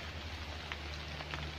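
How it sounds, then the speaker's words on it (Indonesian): Rain falls steadily at an outdoor edu-park with children's rides, a soft continuous hiss with faint scattered drop ticks under a low hum. "Ini cuacanya sedang turun hujan,"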